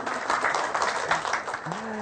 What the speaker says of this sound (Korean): 비슷한 생각을 한 사람이 일단 박수 한번 쳐주고